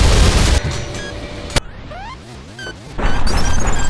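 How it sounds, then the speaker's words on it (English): An acid bull enemy's explosion in the video game ULTRAKILL bursts with a sharp crash, then falls to ringing, warbling debris and effects before another loud burst of combat noise. "Which is a really painful explosion"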